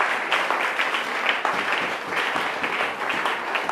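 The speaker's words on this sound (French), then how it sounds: "Acclame encore Jésus-Christ" A church congregation applauds continuously and steadily, a dense wash of clapping acclaiming Jesus Christ with no clear speech over it.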